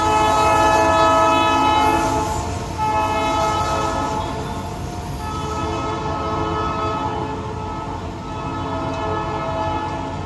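A Norfolk Southern geometry train rumbles past loudly and close, its horn blaring steadily at first and sounding again later over continuous rail noise and wheel clatter.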